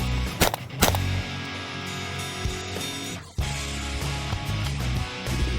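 A SIG P320 AXG Legion pistol with ported slides and a Surefire X300 Turbo light fires a couple of sharp, loud shots early, followed by sustained mechanical noise and a sudden cut, with no talk.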